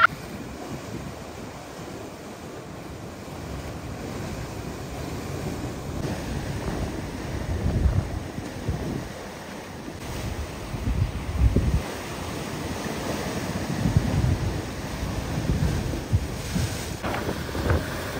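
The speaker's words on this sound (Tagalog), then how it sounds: "the raging sea" Rough sea waves at Lama Monachile beach in Polignano a Mare, Italy, roll in as a continuous roaring wash with swelling surges, while wind buffets the microphone throughout.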